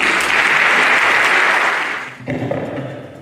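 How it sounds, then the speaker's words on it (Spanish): An audience's loud applause welcoming a speaker at a lecture on early-onset familial Alzheimer's, a dense wash of clapping that fades around two seconds in, leaving a softer patch of room noise and faint voices. "Lo recibimos con un fuerte aplauso."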